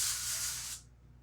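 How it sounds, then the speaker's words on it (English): Olive oil cooking spray hisses out of a can in one steady, close burst lasting under a second, then cuts off into near silence. "I'm going to spray some cooking spray. And this is olive oil cooking spray."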